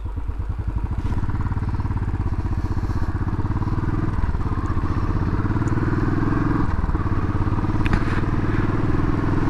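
A Royal Enfield Classic 500 thumps along on a test ride over open roads, its single-cylinder engine beating loud and steady close by, with a little wind and mechanical clatter.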